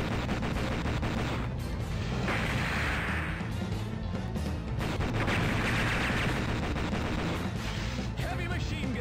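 A heavy machine gun fires rapid, dense bursts in the arcade shooter Metal Slug XX, loud and continuous over booming game effects and music, with a voice talking over parts of it.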